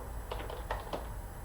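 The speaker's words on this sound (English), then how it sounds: "So now if I start typing in this Sabrina, now it counts 4" A few sparse, light keystrokes on a computer keyboard while entering text into an Excel spreadsheet, faint and close with a quiet background.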